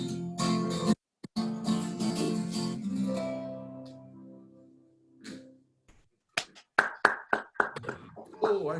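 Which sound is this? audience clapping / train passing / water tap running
audience clapping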